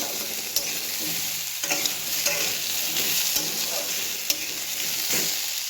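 Mixed vegetables for shukto sizzle in a pan with ginger paste, a continuous close hiss of frying broken by sharp scrapes and knocks of a spatula stirring, with no talk.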